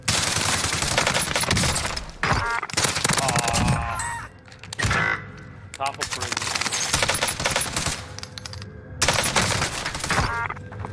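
A PP Bizon submachine gun fires in the video game Warzone in rapid bursts, loud and close, with short pauses between volleys and game sound effects mixed in.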